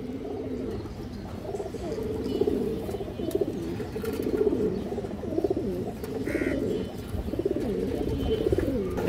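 A female Sabchila high-flyer pigeon coos softly in repeated low, throaty phrases, faint and steady with a little background noise.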